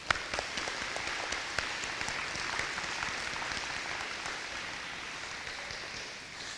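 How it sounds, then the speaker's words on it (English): An audience applauds Mr. Hunter, a STEAM room coordinator and teacher, at an elementary school dedication and ribbon cutting; steady, dense clapping fills the room for several seconds before tapering slightly at the end. "He deserves a round of applause."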